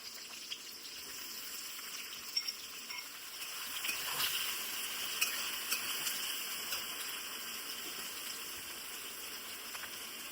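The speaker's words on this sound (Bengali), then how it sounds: "এবারে পেঁয়াজটা ভাজতে দিলাম।" Thinly sliced onions fry in a pan of oil and whole spices for a goat meat curry, giving a soft, continuous sizzling hiss that swells slightly midway, with no talking.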